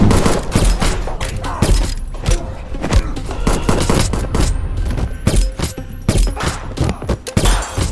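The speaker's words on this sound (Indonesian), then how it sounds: "langsung melepaskan tembakan secara membabi buta hingga seluruh anak buah Slim pun tewas dalam hitungan detik" A gunman fires blindly in a mafia action film scene, a dense, loud fusillade of rapid gunshots with thuds and shattering crashes that continues throughout.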